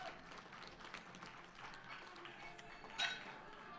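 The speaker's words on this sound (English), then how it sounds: "All right, give her a round of applause" Scattered, faint applause from a small crowd at a bench press powerlifting nationals, with a low murmur of voices and a brief metallic clink.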